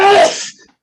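One loud, close human sneeze, a sharp burst that quickly trails off into silence.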